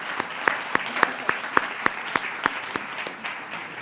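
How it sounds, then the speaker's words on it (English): A plenary session audience applauds Dr. Rivers with a steady, fairly close patter of many hands and sharp individual claps marking a loose rhythm, holding strong for several seconds before starting to thin. "Let's give Dr. Rivers another round of applause"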